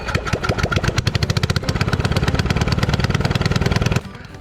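A replacement engine on a Track Vac leaf vacuum runs loud and close with a fast, steady putter, then cuts out abruptly near the end.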